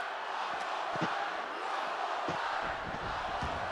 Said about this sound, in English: I can hear the crowd chanting one more time.